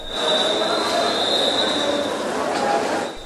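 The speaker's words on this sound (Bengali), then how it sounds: "সকাল 8:30টায় নির্ধারিত সময়েই ছেড়ে যায় এই ট্রেনটি" The Burimari Express passenger train rolls along the rails with a steady rumble and a sustained high wheel squeal, heard up close under a voice speaking throughout.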